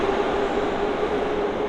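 Underground metro train at a station in Tashkent, Uzbekistan, a steady loud rumble with a sustained tonal whine, continuous throughout with no talking.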